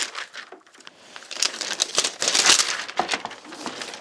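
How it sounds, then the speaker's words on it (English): Plastic wrapping crinkles and tears as a Joyzis BR300 portable power station is unwrapped, close-up rustling that swells and fades over a few seconds. "Let's go ahead and get the Joyzis BR300 unwrapped."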